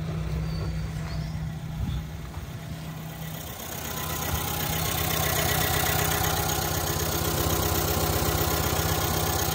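A Vauxhall diesel car engine with a full particulate filter idles with a steady low rumble and rattle that grows slightly louder and rougher partway through, continuous throughout.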